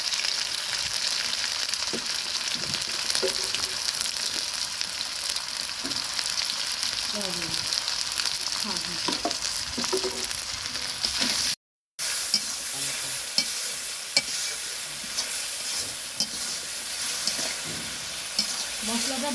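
Spice masala with chilli powder frying in a pan for bhuna, a continuous close hiss of sizzling with repeated scraping strokes of stirring and one brief cut to silence midway.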